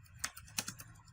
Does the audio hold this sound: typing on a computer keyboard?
yes